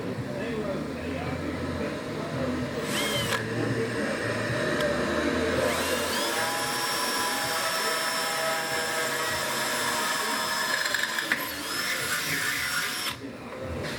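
A Milwaukee drill bores a 1/8 inch pilot hole in a curved radius pipe. A steady, loud high whine runs for several seconds over a noisy background, and a brief break comes near the start.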